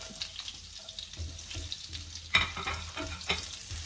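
Garlic frying in a pan for vegetable fried rice gives a soft, steady sizzle with faint stirring scrapes and a few brief louder clinks.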